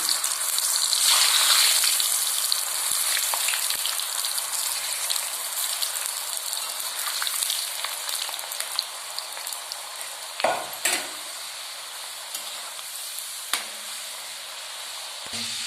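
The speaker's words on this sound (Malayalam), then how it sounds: "എണ്ണ തിളയ്ക്കുമ്പോൾ തയ്യാറാക്കി വെച്ചിരിക്കുന്ന കിഴങ്ങ് അതിലേക്കിട്ട് ഫ്രൈ ചെയ്യാൻ പോകുന്നു" Cut potatoes for French fries sizzle and crackle continuously in hot oil, with a few sharper clinks and stirring knocks partway through.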